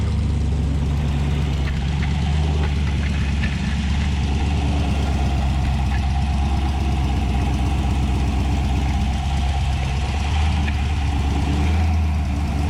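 A car engine idles steadily and smoothly at close range, a continuous low rumble with light mechanical ticking and no voices, running without a break throughout.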